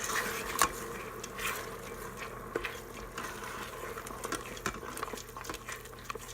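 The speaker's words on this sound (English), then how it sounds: "And just stir it up." Wine is stirred into risotto in an Instant Pot, giving a faint, soft scraping and wet swishing with a low simmering bubble and occasional light taps of the spoon against the pot.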